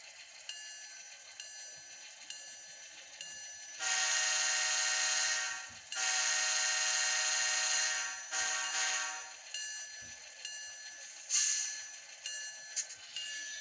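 A model train's horn plays from a DCC sound decoder in three blasts: two long ones, then a short third. A faint hiss fills the quiet gaps between them.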